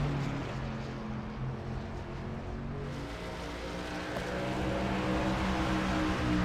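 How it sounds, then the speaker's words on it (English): Truck engines in a sim racing game during a SERL truck series race at New Hampshire, a steady loud drone with a low harmonic hum that swells slightly toward the end, with no talk. "Hear these engines."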